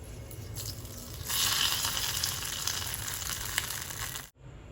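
Ghee tempering for ven pongal sizzles steadily in a pan, a loud, close frying hiss that rises after a second and carries on evenly before cutting off abruptly near the end.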